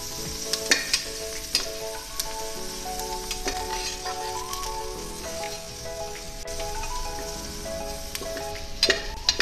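Onions fry in a pan for chicken biryani with a continuous soft sizzle and crackle, stirred occasionally. Background music plays throughout and no one talks.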